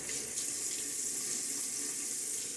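Water runs steadily from a tap into a sink during a wet shave with a Gillette Nacet blade, a continuous close, bright hiss lasting the whole moment without talk.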